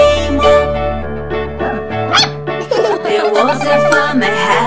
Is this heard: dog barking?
yes